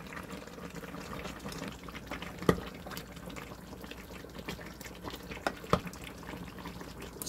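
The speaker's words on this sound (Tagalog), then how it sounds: "So, pakuluin pa po natin siya mga 10 minutes." Korean spicy chicken stew, dakbokkeumtang, simmers in a pot, giving a steady low bubbling with a couple of sharper clicks or knocks. It stays fairly quiet, with no voices.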